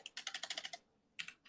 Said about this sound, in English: I'm doing typing with one hand